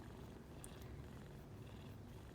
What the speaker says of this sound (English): I hope you guys can hear the purring.